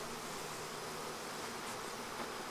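Honeybees buzz in an open apiary hive during an inspection, making a steady, dense drone throughout with no talk.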